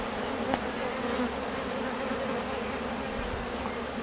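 Honey bees in an opened, split hive buzz in a steady, dense drone close by, with a brief louder buzz as a bee passes near.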